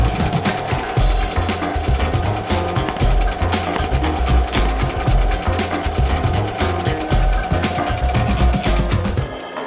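An embroidery machine stitches a glitter vinyl appliqué onto bridal slippers, a loud, steady, rapid mechanical chatter of needle strokes that runs unbroken for nearly ten seconds before stopping abruptly at the end.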